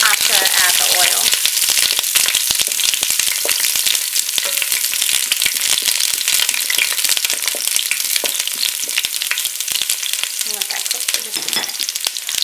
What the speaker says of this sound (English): With us putting the meatballs in right now, we just want to brown the outside.